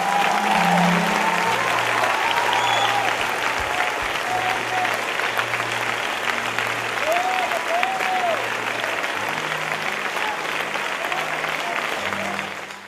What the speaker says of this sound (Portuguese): eu quero ver você dar uma salva de palmas a Jesus